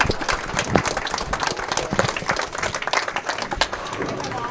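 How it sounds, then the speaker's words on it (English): Audience applause at a bowling awards ceremony for Bowler of the Year, a dense burst of many hands clapping indoors, sustained and fairly loud, with some voices mixed in. "Could you also give Linda Taylor and her committee a big round of applause"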